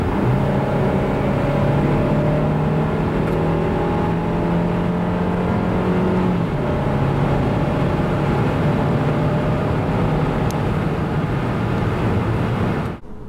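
SsangYong Tivoli 1.5 T-GDI accelerating from 90 to 140 km/h, a steady engine drone climbing gradually with one gear change midway, mixed with strong road and wind noise, cutting off abruptly at the end.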